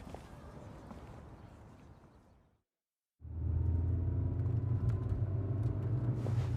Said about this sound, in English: We've been riding in this car forever.